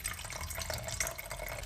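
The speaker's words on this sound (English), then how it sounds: "So I'm just going to get some water here." Water is collected outdoors on a winter mountain hike for hot chocolate, a steady splashing, trickling pour with small drips, close by and fairly quiet.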